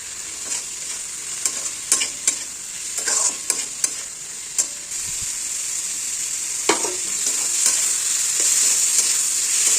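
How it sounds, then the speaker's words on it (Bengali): Shrimp, ridge gourd, potato and pumpkin sautéing with turmeric and chili in a pan, a loud steady sizzle close up, broken by repeated scraping stirs of a utensil, with no talk. "দিয়ে এটাকে কষাবো"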